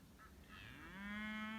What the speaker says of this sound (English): So we have Dexter cattle here.